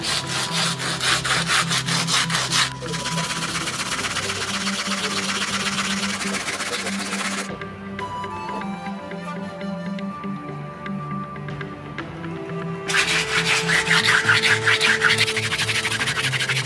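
Continuous rhythmic rasping of a wooden saw with wet river sand cutting through stone, gritty back-and-forth strokes, pausing briefly midway and resuming louder toward the end.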